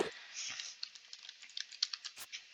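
Quiet, quick taps and clicks on computer keyboard keys during a Kodu Game Lab session, an irregular run of presses at close range with no talking.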